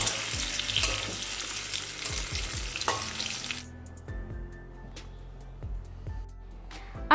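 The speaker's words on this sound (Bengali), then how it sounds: "আমি আলুটাকে কেটে এখন ভাজতে বসিয়ে দিয়েছি।" Cut potatoes frying in oil in a pan for mutton curry, a close hissing sizzle that dies down partway, with repeated scraping knocks of a spatula stirring.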